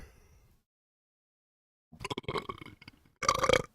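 A person lets out two loud, close burps after a moment of silence, the second one shorter and stronger.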